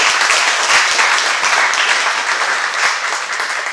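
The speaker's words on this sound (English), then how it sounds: "Well, hold up the applause at the end." Audience applause at a lecture, a dense, steady burst of many hands clapping close and loud throughout.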